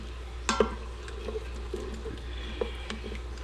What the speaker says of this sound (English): let it cook just for a little bit. Get all the seasonings cooked.